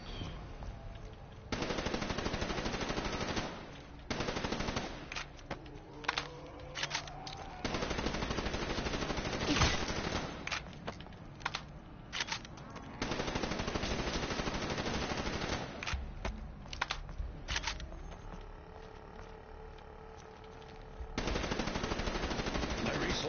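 Rapid, sustained minigun fire from the Death Machine in Call of Duty Zombies, coming in long loud bursts with short gaps between them and no talk over it.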